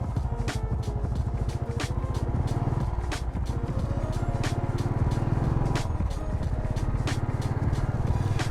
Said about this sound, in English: Let's drive around a bit.